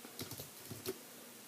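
Soft typing on a computer keyboard, a few quiet, close key clicks in a short irregular burst, then a stop into near silence.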